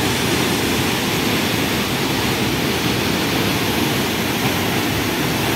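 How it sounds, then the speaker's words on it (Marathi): Amboli Ghat waterfall roars as a steady, loud, broadband rush of falling water over rock, unbroken and constant with no voices. "इथून तुम्हाला अंदाज मिळेल धबधबा कसा आहे।"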